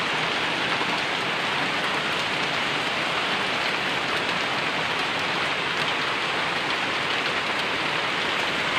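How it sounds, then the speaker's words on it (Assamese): Heavy rain pours down in a dense, unbroken roar of drops on surfaces, steady and loud from start to finish with no voices. "ত' বৰষুণ বহুত ডাঙৰকৈ দিছে, এতিয়া চাব পাৰে।"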